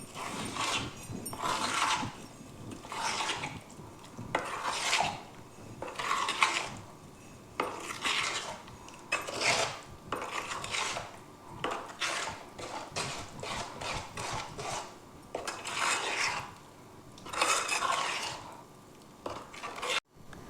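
Ripe red chilli and amla chutney stirred in a pot, a spoon scraping the pot in repeated rhythmic strokes with clinks and knocks, close and steady, with no talking.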